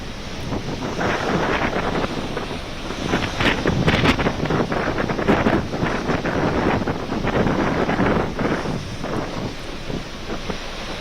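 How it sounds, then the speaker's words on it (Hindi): Rough sea and strong wind at the Gateway of India during Cyclone Biparjoy, a constant loud roar of gusts buffeting the microphone over crashing surf. "वहाँ पर समुद्र काफ़ी एग्रेसिव इस वक्त दिखाई दे रहा है और ये चक्रवात बिपरजॉय का असर ही है"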